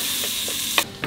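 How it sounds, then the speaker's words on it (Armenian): Onion and tomato frying in a pan for an Armenian meat crepe filling, a steady sizzle with a few brief scraping stirs of a utensil near the end. "Մեկ քիչ որ սոխարածը կարմրա, լոլիկն էլ ավելացնում եմ։"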